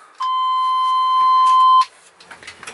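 A vehicle dashboard buzzer gives a single loud, steady electronic tone for about a second and a half, then stops, followed by faint clicks and rustling.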